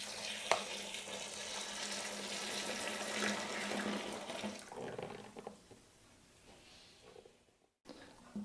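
Hot water pours into a bucket for home brewing beer in a steady, rushing stream for several seconds, then tapers off into quieter splashes and a brief silence.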